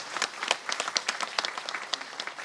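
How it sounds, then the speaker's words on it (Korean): A church congregation claps in praise, a steady mid-distance burst of many hands with distinct sharp claps across the short stretch, no voices. "그럼 우리 하나님 앞에 한번 박수로 영광을 올립시다."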